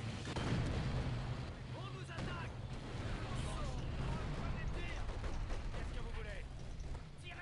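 Heavy howitzer artillery booms and rumbling explosions from the B4 in Company of Heroes 2 roll continuously through a busy game soundscape, with scattered crackling fire.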